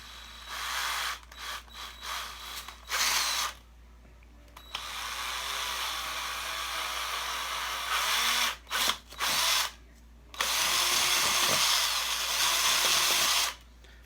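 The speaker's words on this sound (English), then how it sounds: "Because I think I could just drill a hole." A power drill whirs in repeated bursts, starting and stopping several times, with longer steady runs toward the end; close and loud with no talking.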